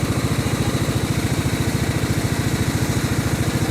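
A lawn mower with a worn, failing blade spindle runs steadily nearby, its engine putting out a rough, rapidly pulsing low drone with a constant mechanical chatter and no voices.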